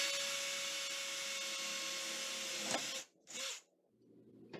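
A drill bores a small 1/8-inch hole into a wall for drop-ceiling wall molding at an inside corner, whirring steadily and fairly close for about three seconds before cutting off, followed by a couple of brief bursts and quiet.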